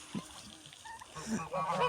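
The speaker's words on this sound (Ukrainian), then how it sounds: "Так, ці наші гуси." Farmyard geese honk in a few nasal, overlapping calls at close range, with turkeys and a dog nearby and a voice speaking among the birds.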